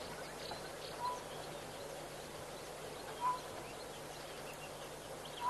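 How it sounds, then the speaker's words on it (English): Faint, distant Egyptian geese calls scattered over a steady outdoor hum at a waterhole, with a few brief louder chirps standing out now and then. "You just hear the constant chatter of the Egyptian geese."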